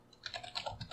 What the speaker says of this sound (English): If I type something in here, like hey, it says hey.